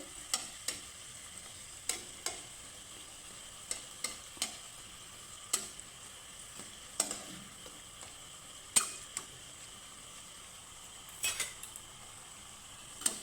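Bou sundari pitha frying in oil gives a steady soft sizzle, with scattered sharp clicks and scrapes of a utensil against the pan over about thirteen seconds, close and fairly quiet, with no talking.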